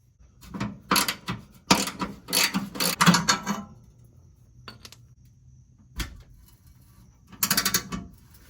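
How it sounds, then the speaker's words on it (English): A hand ratchet works on 1/2 inch bolts under a 1973-79 Ford F-series truck, rapid clicking runs in bursts close up, separated by pauses and a single knock. "from underneath the truck, we've got to remove this bolt and this bolt here. They're both a 1/2 inch"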